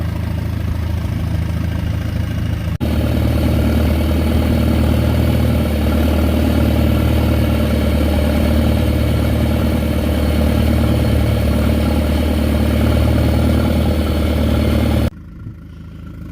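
A log skidder idling in the woods, a steady low mechanical rumble running continuously before cutting down abruptly at the end.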